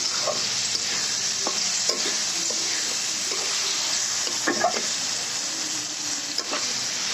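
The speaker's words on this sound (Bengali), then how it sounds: "আর এটি চিংড়ি মাছটা দিয়ে দিচ্ছি" Prawns fry in a pan for a Bengali prawn curry, giving a steady broad sizzle throughout while a utensil stirs them with scattered scrapes and clicks, close and moderately loud, with no talking.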